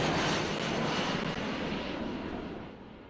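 An airplane roars overhead in a loud, broad engine rush that slowly fades over a few seconds, with no speech.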